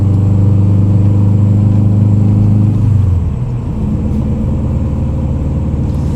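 Rebuilt Subaru WRX engine running while the car drives on the road, a loud steady droning rumble that drops in pitch partway through as the revs fall, continuing as a lower cabin hum with no talking.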